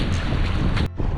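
Strong wind blowing over water on a paddleboard outing in Brazil, constant loud roaring buffeting close to the microphone with a brief dropout near the end.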